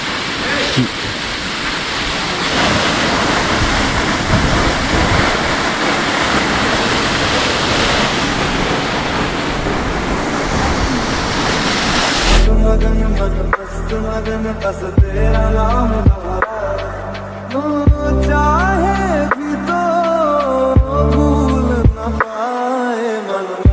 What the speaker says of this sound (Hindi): यहाँ लगभग 20-30 मीटर ऊपर से वाटरफॉल गिर रहा है, देख सकते हैं आप लोग।